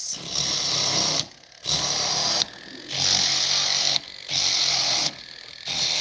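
A sanding disc smoothing a metal edge: a loud abrasive grinding whirs in repeated bursts of about a second each, separated by brief pauses, close by.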